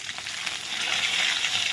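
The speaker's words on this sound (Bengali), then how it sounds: "তেলে এখন 5 ফোড়ন, 2টো তেজপাতা, 4টে শুকনো লঙ্কা ফোড়নে দিয়ে দিলাম।" Panch phoron five-spice, two bay leaves and four dried chillies hit hot oil, producing a loud, even, continuous sizzle with no break.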